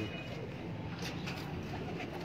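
A show pigeon coos softly and continuously against a dense, noisy background, fairly faint and without pause.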